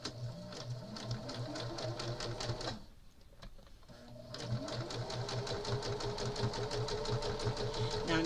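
A sewing machine stitching a quilt seam runs in a fast, steady mechanical patter close by, pausing briefly midway before starting up again.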